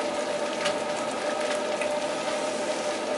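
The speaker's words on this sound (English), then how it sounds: "that is a rampant boil" A rampant rolling boil in an Ss Brewtech brewery kettle, a steady close churning and bubbling with a constant electric hum beneath, no talk.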